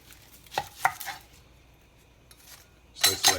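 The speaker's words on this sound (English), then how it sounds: "We're going to chop this up as we always do." A knife chops an onion on a cutting board in a home kitchen, with a few sharp, separate strikes near the start and a quick double chop at the end, close and clear, with no talking.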